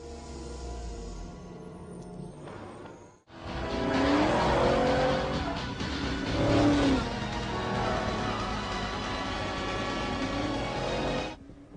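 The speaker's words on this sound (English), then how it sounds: "In this short clip, in Back to the Future 2, features a 1989 Mustang, which has been modified to look like a futuristic" A modified 1989 Ford Mustang styled as a futuristic 2015 car drives in a film scene, its loud engine revving and roaring with tire squeal after a quieter opening, amid a busy soundtrack.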